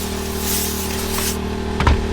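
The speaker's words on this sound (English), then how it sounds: "this time I'll use the pump spray." A pump sprayer misting cleaner onto a cloth car seat: a soft hiss over a steady mechanical hum, followed by a brief sharp click near the end.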